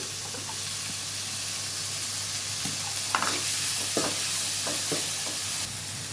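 Tomato and green chilli pieces frying in a pan of oil for a home-style curry, a continuous close sizzle and hiss with a few clinks and scrapes of stirring, no talking.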